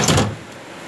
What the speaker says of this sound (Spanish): Cerré la ventana.